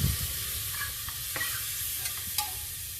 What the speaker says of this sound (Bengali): তারপরে হালকা করে এর মধ্যে এটাকে নাড়তে লাগবে।